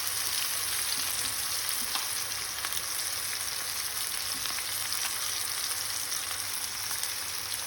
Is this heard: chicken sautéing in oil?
yes